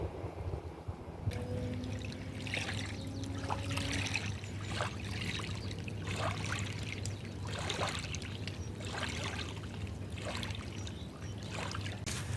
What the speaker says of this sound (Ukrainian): Знов моторна лодка і зараз підуть хвилі.